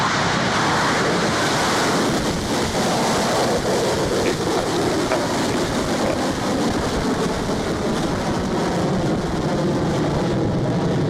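Rocket Lab rocket lifting off, a loud, sustained broadband roar with rumbling and crackling texture that stays steady throughout, with no voices.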